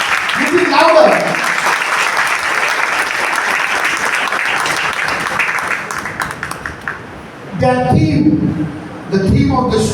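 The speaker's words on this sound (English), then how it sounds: "A big applause to all of them." Audience applause at a school annual day celebration, sustained loud clapping from a large crowd that fades, then voices and music-like sounds come in near the end.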